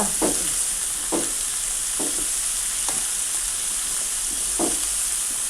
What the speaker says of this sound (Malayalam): എന്നിട്ട് എല്ലാം കൂടി നന്നായിട്ടൊന്ന് ഇളക്കി ചേർക്കുക